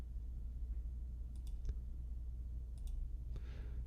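Computer mouse clicks sound while working in graphics software, a few faint, sparse, close clicks spread over a quiet, low hum.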